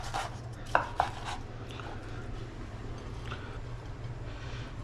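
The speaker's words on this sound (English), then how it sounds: "let's cut the steak" A knife slices a cooked medium-rare steak: two brief, crisp cuts close together near the start, then a steady low background hum with no voices.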